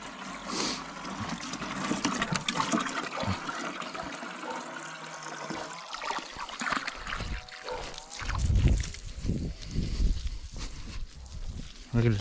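Water splashes and runs in bursts during chores at a family home, growing louder and more turbulent toward the end, with people talking nearby.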